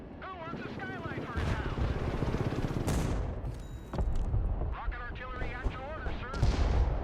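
Rocket artillery in the video game Broken Arrow fires in heavy rumbling volleys, loud booming blasts and rushing launches layered over battlefield noise, with a voice talking over parts of it.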